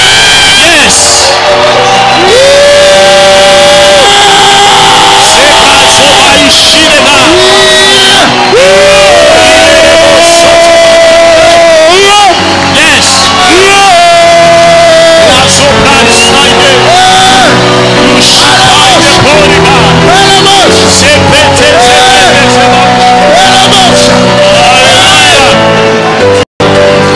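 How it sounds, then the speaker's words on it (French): A crowd at a lively prophetic church gathering in Bukavu shouts and whoops for joy, loud and sustained over blaring music throughout. "Est-ce que tu peux pousser des cris de joie?"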